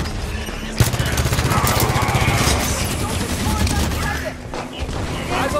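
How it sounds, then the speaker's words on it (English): Rapid, dense firing of auto turrets at Prometheans in Halo 5, a steady loud rattle of shots with a booming impact early on, voices heard over it. "Turrets on and firing."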